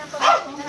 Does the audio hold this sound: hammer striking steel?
no